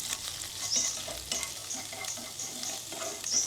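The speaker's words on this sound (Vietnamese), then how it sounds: "Tôm mình cũng xào thơm luôn." Shrimp being stir-fried in a hot pan, giving a continuous bright sizzle broken by repeated scraping and tossing strokes, close and fairly loud with no talking.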